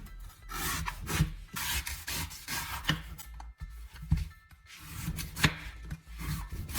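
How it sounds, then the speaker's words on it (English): A sharpened knife cutting into a coconut, with rough scraping and rasping strokes in uneven bursts, close and fairly loud, with brief quiet gaps between cuts. "Finally, test it on a coconut, or a tougher fruit if you have one."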